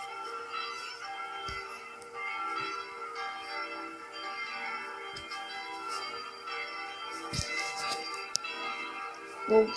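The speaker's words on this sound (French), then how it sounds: "La cloche qui sonne à midi, c'est la cloche... c'est la 3. La 3, c'est le sol 3." Chapel bell tuned to G3, the noon bell, ringing faintly at a distance in steady repeated strokes with a long hum lingering between them.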